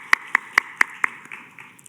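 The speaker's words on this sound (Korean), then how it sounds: "우리 하나님께 영광의 박수 올려드리겠습니다" A church youth congregation gives a short burst of applause during worship: five sharp claps in a steady, even rhythm, then a few faint scattered claps trailing off in a quiet room.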